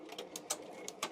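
A Ricoma EM-1010 embroidery machine stitches a varsity jacket, giving quick, faint, rhythmic clicking bursts in a quiet room.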